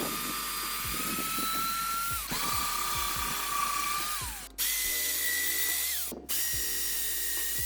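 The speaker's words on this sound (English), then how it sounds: "I've just drilled 8 holes into these 3 pieces of wood" Power drill boring holes through stacked pieces of wood for a koi pond build, several loud close whining bursts that spin up, hold and wind down, with brief pauses between holes.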